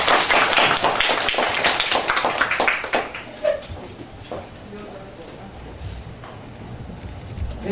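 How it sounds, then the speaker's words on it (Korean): An audience at a political talk concert bursts into close, busy clapping for about three seconds. The applause then thins into scattered claps and a quieter room murmur. "박수를 모시겠습니다"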